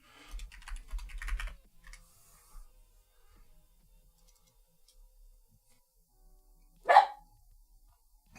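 A dog lets out a single sharp bark partway through, loud and close, after a stretch of quiet clicking keyboard typing and faint room noise.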